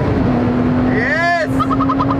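Lotus Exige sports car engine drones steadily from inside the cabin, a constant low hum running beneath loud, animated talking.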